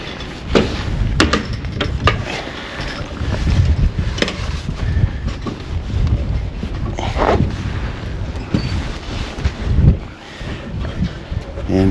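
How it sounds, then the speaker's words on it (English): Gusty outdoor wind buffets the microphone at a home exterior renovation site, with a steady low roar and sharper bumps and thuds throughout. "It's a bit windy today."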